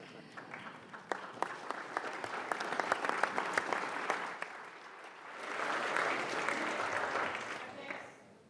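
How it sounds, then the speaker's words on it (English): Applause from a conference audience at an annual financial outlook event: sustained clapping from a large seated crowd, steady and moderately distant, swelling into a denser burst toward the end. "Please join me in a round of applause for Diane Francis, John Ivison, Terry Corcor"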